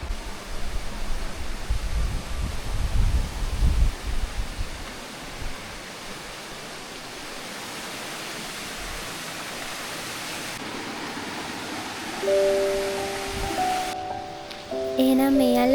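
A waterfall with a shallow bathing pool near Baker's Bend produces a broad, continuous rushing roar, loudest at first and then steadier and softer, with a few brief tonal sounds near the end.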